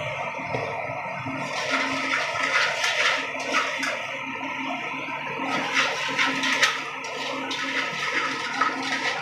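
Pointed gourd curry being lightly stirred in a pan after a pinch of salt is added, giving a steady watery sizzle with soft scraping and clatter throughout, loud and close with no talk.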